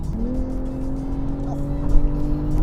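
A BMW G20 M340i LCI engine hums and builds steadily while driving, a smooth rising drone heard from inside the car with road rumble underneath.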